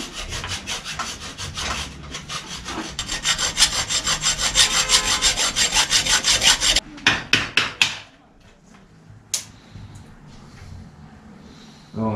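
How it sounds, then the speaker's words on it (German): Rapid back-and-forth sawing through the plastic around a bicycle bottom bracket, rhythmic rasping strokes that speed up, then a few final cuts and quiet scraping. "Jetzt wird außenherum der Plastik weggesägt."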